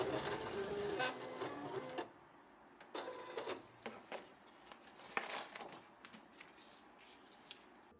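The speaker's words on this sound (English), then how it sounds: "I'm using my Silhouette Cameo to create decals for each can." A Silhouette Cameo cutting machine slices vinyl decals, giving bursts of motorized whirring and rapid clicking carriage movements that start and stop unevenly, moderately loud and close with no speech.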